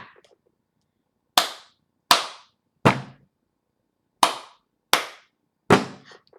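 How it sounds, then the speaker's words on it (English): Six sharp, separate percussive hits in a clap, clap, tap pattern, hand claps alternating with tapping on a desk, each crisp and close with silence between them. "So I'm going to do clap, clap, tap. So I'm tapping on my desk."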